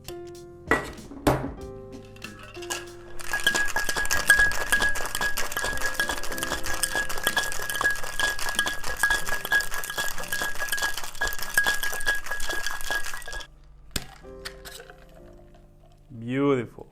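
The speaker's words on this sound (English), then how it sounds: "Now we're going to add ice into our shaker and shake the ingredients." Ice rattles hard inside a cocktail shaker as a gin bramble is mixed, a dense rapid clatter lasting about ten seconds after a few initial clinks, then stopping.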